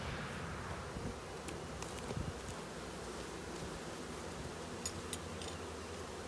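Honeybees at a hive during syrup feeding, a steady low insect buzz filling the whole stretch, close and continuous, with faint rustling and no talk.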